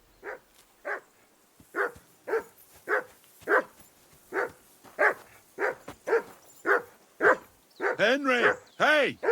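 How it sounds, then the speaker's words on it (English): A dog named Mutt in the medieval video game Kingdom Come Deliverance II barks loudly and steadily in a regular rhythm of more than a dozen woofs, ending in a few rising whines and yelps. "Call off that mutt of yours!"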